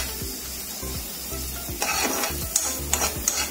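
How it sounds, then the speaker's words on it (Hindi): Carrots and onions frying in butter with a soft steady sizzle, while a spoon stirs the pan in repeated low scrapes and a few sharper clinks of utensil on metal come near the end. "गाजर और प्याज को एक साथ मिला के मैं थोड़ा सा फ्राई कर लूंगी भुन लूंगी इसको बटर में"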